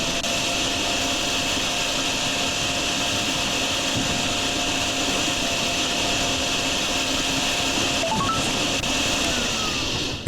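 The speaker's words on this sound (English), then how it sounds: "we're gonna take our vacuum and try to suck some of this up." A video game vacuum in DrainSim sucks up water from a clogged drain, a loud, steady whining roar that holds at one pitch throughout, with a brief rising tone near the end and no speech.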